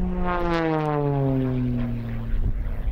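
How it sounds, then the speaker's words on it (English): A propeller stunt plane drones loudly overhead at a Loxahatchee, Florida wildlife refuge, its engine pitch sliding steadily downward as it passes, a continuous sustained roar. "I enjoyed watching the stunt plane"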